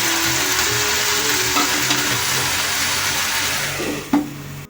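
Winter mixed vegetables with fried eggplant hiss steadily in a pan, a loud, even sizzle heard close up, with a single sharp clatter of a utensil near the end.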